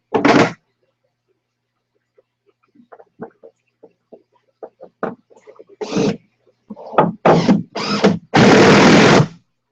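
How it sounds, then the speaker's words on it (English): A power drill drives screws into wood while a budget aquaponics setup is being built, with several short, loud whirring bursts close by, the final burst the longest, and quieter scattered sounds between them. "Sorry about the noise of the drill too."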